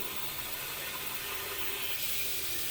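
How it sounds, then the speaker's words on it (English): Tap water runs steadily into a shaving bowl, a continuous hissing splash that grows slightly brighter toward the end, fairly close and with no talking. "is just fill the bowl with water"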